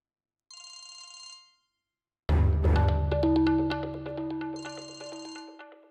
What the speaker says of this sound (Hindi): फोन नहीं उठा रही हो? किसका फोन है?